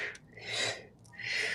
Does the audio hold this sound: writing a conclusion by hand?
no